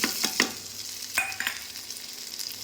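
Tadka with ginger sizzles in a hot pan for sarson da saag, a close, bright crackle of frying broken by scraping stirs and little pops, continuous with no talking.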